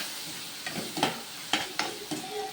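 Tomato curry with chili powder cooking in a pan, with a quiet simmering sizzle broken by several sharp stirring scrapes and clinks of a spoon against the pan.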